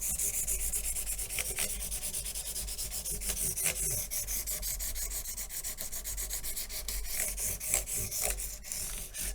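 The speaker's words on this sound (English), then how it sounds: "There's not a whole lot of shaping that goes on with the sandpaper, but the 600 is the one that comes the closest to it." Neck of a 1976 Martin D-28 guitar sanded by hand with 600-grit sandpaper, a continuous close scratchy rubbing with rhythmic back-and-forth strokes, alone without voices.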